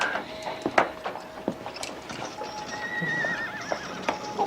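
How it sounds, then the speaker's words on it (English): A horse neighs with a wavering whinny, joined by hoof clops and scattered knocks nearby, all fairly faint. "You saved the horses, July."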